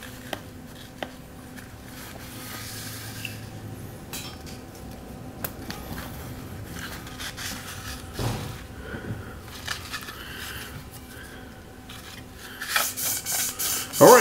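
Soft, continuous rubbing and rasping as sandpaper wrapped with a shoelace is worked back and forth around an engine crankshaft journal, fairly quiet and steady, with a few sharper scrapes toward the end.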